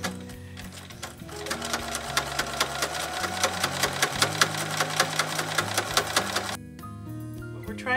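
Sewing machine stitching a fusible-thread binding onto an art quilt table mat, a close, rapid mechanical chatter that speeds into an even rhythm and stops abruptly near the end, with no talking over it.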